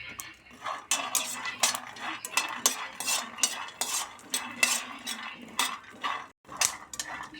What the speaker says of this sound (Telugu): ముందుగా పల్లీలు వేయించుకోవాలి మంచిగా ఎర్ర వేయించుకోవాలి